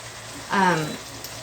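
Spinach sizzles in a pan as it is tossed with tongs: a steady low frying hiss with one brief, brighter burst of sizzle lasting about half a second midway.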